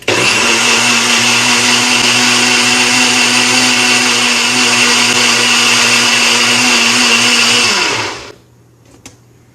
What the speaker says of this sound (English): for fluffier ones, use a blender